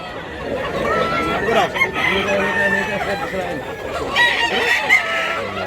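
A white rooster crows among other chickens at a poultry sale, the calls carrying over a busy mix of clucking and background voices.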